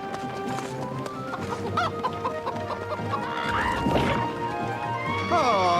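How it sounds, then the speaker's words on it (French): Cartoon birds cluck and squawk in an animated adventure set in a faraway country, a busy flock of rhythmic clucks and chatter with background music, close and fairly loud, with a character's voice briefly heard among them. "il y a trop d'oiseaux dans ce pays"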